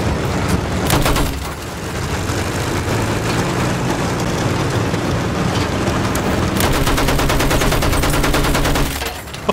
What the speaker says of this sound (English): I'm just shooting anything in sight.